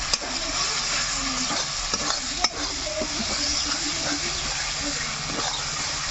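Spice masala for chicken biryani fries and is stirred in a pan, with a steady loud sizzle throughout and occasional scraping stir strokes.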